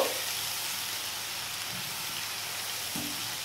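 Garlic paste lightly frying in a pan for a home-style fish dish gives a steady, soft sizzle with no pauses, spread evenly through the clip and heard alone at a moderate distance.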